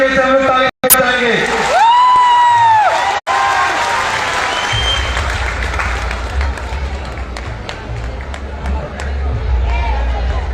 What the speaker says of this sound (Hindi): इनके लिए एक बार जोरदार तरीके से हम लोग ताली बजाएंगे